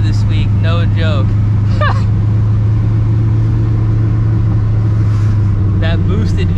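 A cammed, procharged New Edge Ford Mustang GT V8 running on E85 idles with a steady, loud, low rumble throughout, while someone talks over it.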